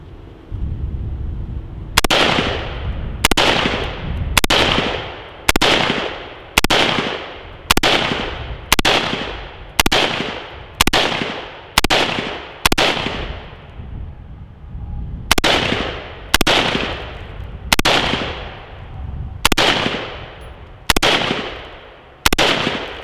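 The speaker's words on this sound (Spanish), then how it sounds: "Le estoy disparando sobre la zona baja para poder diferenciar unos del otro" Gunshots fired at a level 3 bulletproof vest plate, a long steady series of about eighteen loud, sharp reports spaced roughly a second or so apart, each with a short ringing decay, outdoors and close.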